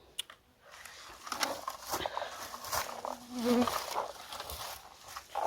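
A thin insect whine drifts in and out over faint outdoor rustling, rising briefly louder midway as if passing close to the ear.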